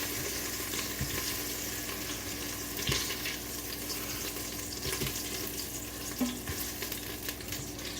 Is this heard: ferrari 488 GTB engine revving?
no